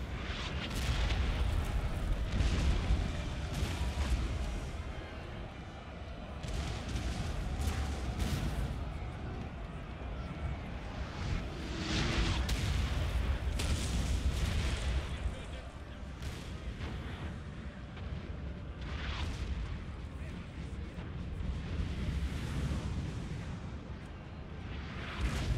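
Cannon artillery barrage in Napoleon Total War, a Danish campaign battle: dense, continuous booming and rumbling fire with repeated loud blasts layered over one another, heavy throughout, with faint voices mixed in.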